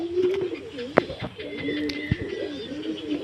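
Pigeons fed grain in the afternoon coo close by in soft, repeated rolling calls, broken by a few sharp flutters or pecking knocks.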